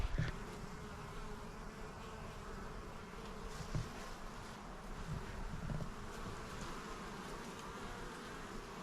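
Honey bees hum steadily around backyard beehives in Alaska, a soft continuous buzz with individual insects passing close now and then, faint and alone with no voices.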